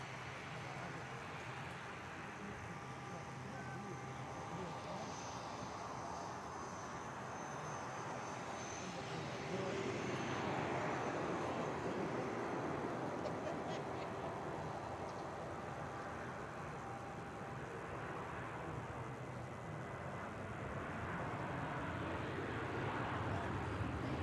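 A Ryanair Boeing 737 Max 8 jet at Manchester Airport gives a steady, fairly loud engine roar that swells around the midpoint and again near the end, with faint voices now and then underneath.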